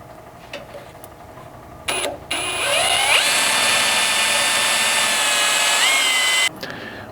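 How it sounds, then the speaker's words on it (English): A power drill with a 1/8-inch bit whines up to a high, steady spin drilling a pilot hole and holds for several seconds before cutting off, close and loud. "you want to start with a small pilot drill"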